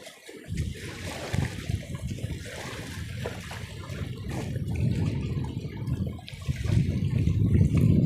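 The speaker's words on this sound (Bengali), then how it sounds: "তো ফাইনালি এই মাছগুলো ধোয়া হচ্ছে" Freshly caught fish are washed in water on a Sundarbans fishing trip, with continuous close splashing, sloshing and trickling that swells toward the end and no voices.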